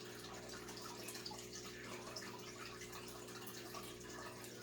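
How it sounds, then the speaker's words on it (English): Water runs steadily from a fish tank in a home, a constant soft trickle and splash with a low steady hum beneath it and no talking. "Sorry, you hear the running water."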